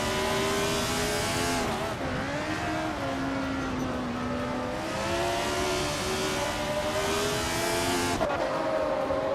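A 1971 McLaren M19A race car in a video game drives with a loud, continuous engine whine that rises and falls through gear shifts, steady and close, with no talking.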